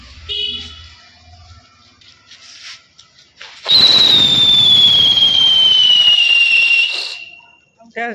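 A whistling Diwali firework shrieks with a steady descending whistle over a loud crackling hiss for about three seconds, preceded by quieter pops and followed by a sudden drop to near silence.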